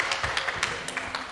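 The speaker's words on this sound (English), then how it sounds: "I would like to give a round of applause to you, Zaki." Short burst of scattered hand clapping for a student speaker at an English olympiad, a few quick, uneven claps, fairly close and moderately loud.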